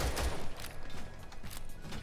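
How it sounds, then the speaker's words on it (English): Rapid bursts of Rainbow Six Siege gunfire crackle and thump in quick succession, loud and close, with no talking. "the first thing I hear is just gunshots"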